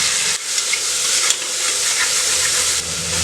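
Mint and coriander sauté in a pan for mutton nombu kanji, giving a continuous loud sizzle and hiss with occasional stirring scrapes; no voices.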